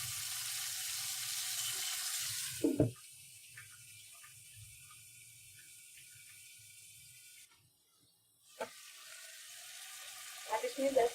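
Mutton karahi sizzles loudly in a pan for a few seconds, then drops to a quiet, muffled simmer with occasional clinks and clatter nearby.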